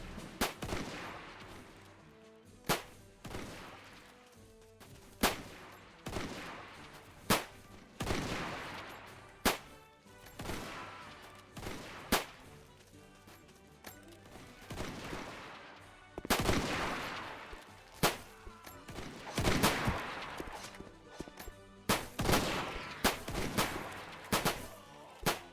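Dense gunfire from a Zulu war video game, with repeated sharp rifle shots and volleys crackling over a continuous battle din, some reports close and loud, others overlapping in rapid bursts.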